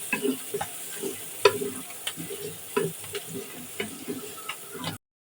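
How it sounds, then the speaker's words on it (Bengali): Green peas fry in a little soybean oil with a soft continuous sizzle, broken by several sharp stirring clatters of a spoon against the pan at irregular intervals, fairly close and moderately quiet. "তো এখন একটু ভেজে নিচ্ছি।"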